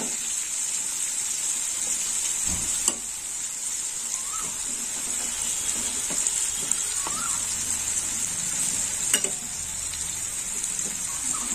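Round slices of bitter gourd fry in oil until reddish, giving a steady, even sizzle and hiss that continues throughout, with no voices.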